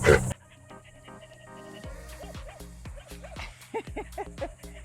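Dogs yip, whimper and bark in a quick irregular series, close by, over a steady low background hum.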